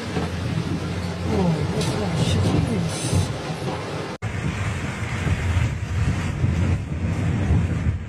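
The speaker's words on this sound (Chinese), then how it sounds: "整条路全是倾泻而下的水" Torrential rain and floodwater pour down a mountain stretch of Provincial Highway 29 in Kaohsiung as a loud, continuous rushing roar, with wind buffeting the microphone throughout.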